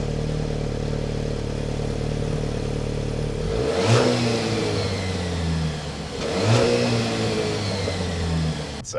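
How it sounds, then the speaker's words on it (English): A 2023 Dodge Hornet GT four-cylinder engine idles steadily and then revs twice in quick sharp blips, each rising and falling back to idle, heard loud and close with no talking. "More aggressively sounding engine than most."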